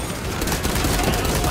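Rapid bursts of gunfire in Warhammer 40k Space Marine 2, a dense continuous volley of close, loud shots filling the whole moment without a break.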